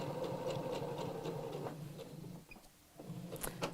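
A domestic sewing machine stitching a heart reverse applique on a mat runs in a steady close whir for under two seconds, pauses briefly, then starts again with a short burst of stitching.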